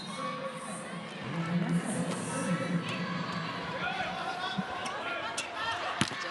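A volleyball arena crowd at a PVL Reinforced Conference semifinal, Creamline versus Cignal, keeps up a steady roar of cheering and chatter with occasional ball impacts, while a commentator talks over the noise.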